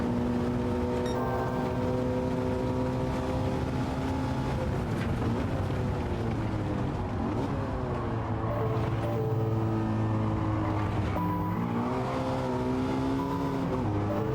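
A 2016 Shelby GT350R engine revs in second gear in a racing video game, holding a loud, sustained drone whose pitch climbs and dips in long sweeps with no talking.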